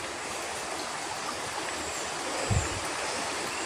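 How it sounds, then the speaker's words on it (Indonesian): Steady broadband rushing of water pouring from an old Dutch-era water spout, continuous and fairly close, with a brief low thump near the end. "seperti pancuran air ini"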